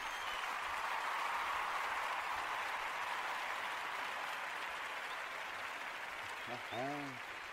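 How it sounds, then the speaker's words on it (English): Steady applause from a small group fills most of the stretch at moderate loudness, then eases as a voice briefly speaks near the end. "let's have a round of applause"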